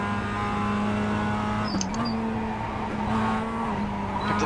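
A race car engine in the iRacing sim holds a steady, loud drone with a brief squeal of tyres midway as the throttle is picked up slightly early out of a corner.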